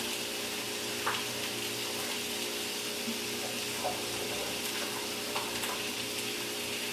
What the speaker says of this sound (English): I'm going to go ahead and throw my mushrooms in